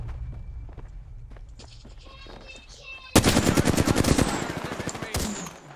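Gunfire in the video game Apex Legends: after a few seconds of quieter game sounds, a loud burst of rapid automatic fire erupts and keeps rattling close by.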